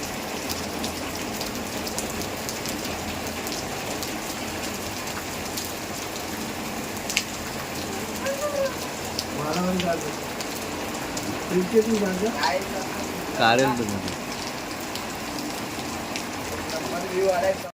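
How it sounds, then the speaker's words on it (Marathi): Heavy rain pours steadily in a village during the monsoon, a dense hiss lasting the whole stretch, with a few brief knocks and clatters partway through. "पाऊस थांबायचा नावात नाही घेत"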